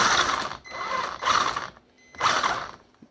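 A Wltoys 12428 RC truck with a JB Weld–locked solid rear axle drives in short bursts, its motor and gears giving three loud, whirring, ratcheting runs separated by brief pauses, close up.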